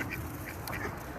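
Duck quacking: a few short, faint quacks spaced irregularly over a soft background, with no talk.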